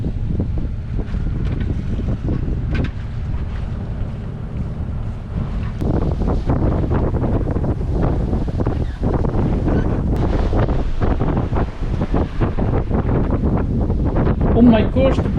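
A 34-foot Hallberg sailboat on a beam reach at sea toward Porto Santo, rolling in big side waves; loud continuous wind buffeting and rushing water with splashes and hull creaks throughout.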